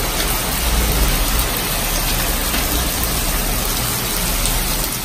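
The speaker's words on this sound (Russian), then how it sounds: "дождь стал еще больше" Heavy rain pours down outdoors in a dense, loud, unbroken hiss with a low rumble underneath, steady for the whole stretch and free of any voices.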